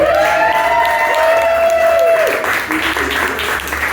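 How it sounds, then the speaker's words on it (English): An audience at a live show breaks into a round of applause mixed with cheers and a few whoops, while a voice rings out loudly over the start of the clapping. "Can I have a round of applause?"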